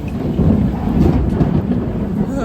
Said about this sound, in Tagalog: Katakot yung kulog.